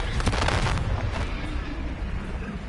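Confringo blasting spell from a Harry Potter video game, heard as a dense burst of crackling, booming explosion that gradually settles into a rumbling tail.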